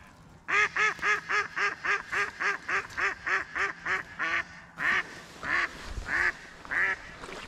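Ducks quack in a fast, even series of about a dozen loud, close calls, then a few slower spaced quacks follow during a spring drake hunt from a blind, with no talking.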